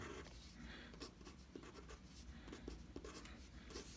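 A math equation is written out by hand, producing soft, scratchy strokes and small taps close up. The sound is quiet and continuous, with no talking.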